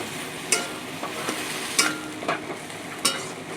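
Amboli greens cooking in a pan with soft, nearly melted tomatoes, a steady close sizzle broken by several sharp scraping clicks of stirring at irregular intervals, with no voices.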